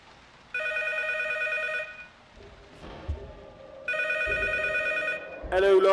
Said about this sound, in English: If we wait, The phone will ring